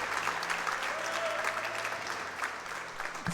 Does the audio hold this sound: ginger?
no